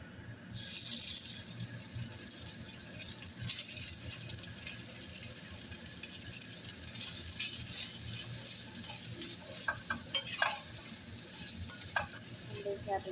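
Chicken fries in a pan in a home kitchen with a steady, close sizzle that lasts throughout. Near the end, scattered clinks and stirring sounds cut through the hiss.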